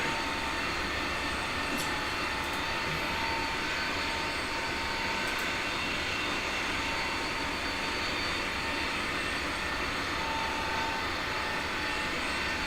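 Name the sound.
A320neo airliner engines in video game Microsoft Flight Simulator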